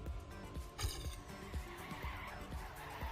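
Cars drifting with skidding tires in a four-player racing video game tournament match, rapid repeated engine and tire bursts with a brief louder skid surge near the start, busy and continuous.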